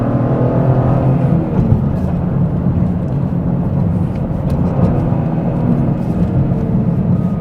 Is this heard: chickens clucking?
no